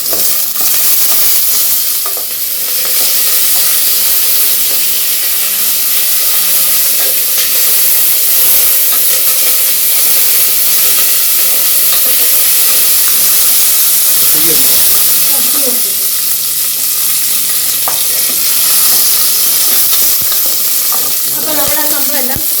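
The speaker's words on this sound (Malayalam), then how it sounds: "ഇനി നമുക്ക് കറിവേപ്പില കൂടെ ചേർക്കാം." Washed curry leaves hit hot oil for broken wheat upma and set off a loud, continuous hissing sizzle that fills the whole stretch with steam-like noise, along with faint stirring clinks and no speech.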